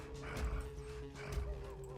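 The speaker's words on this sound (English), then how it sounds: "Good barks." Werewolves bark in a horror show, a run of short dog-like barks and yips repeating over a steady background tone, fairly close and moderately loud.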